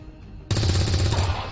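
Automatic gunfire in XCOM 2 breaks out suddenly after a brief lull, a dense, loud stream of shots that keeps going without pause to the end.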